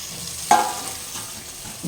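Chopped tomatoes drop into a hot tempering for a tamarind fish curry, giving a sharp burst of sizzle that settles into a quieter crackle, with a faint scrape near the end.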